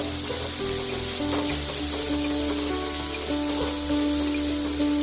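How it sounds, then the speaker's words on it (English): Sliced onions sizzle and crackle steadily in hot oil, a constant loud frying hiss with faint tones underneath. "We are going to fry this onion."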